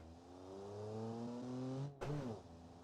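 A car engine in the driving game BeamNG climbs steadily in pitch as it accelerates, briefly cuts out during a gear change, then picks up again, with no talking.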